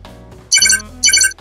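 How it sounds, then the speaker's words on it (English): In a Dr. Panda cartoon, a phone gives a bright electronic alert: two quick, high, tinkling tone bursts over a low background hum, with no speech. "Uh-oh, your phone is out of batteries."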